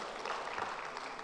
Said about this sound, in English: Let's give her and all the other speakers one more round of applause,